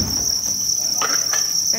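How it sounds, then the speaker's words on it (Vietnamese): Crickets on a cricket farm chirp in a steady, continuous high-pitched trill, close and fairly loud, with a few faint handling noises and no voices. "Dế bám rất tốt."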